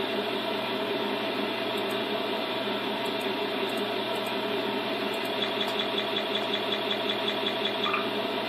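A diesel locomotive engine idles in the Garry's Mod video game, a steady low rumble with a faint rhythmic knock running evenly throughout at a constant level.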